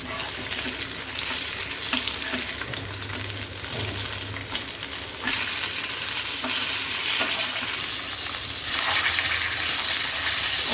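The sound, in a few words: fish frying in oil in a pan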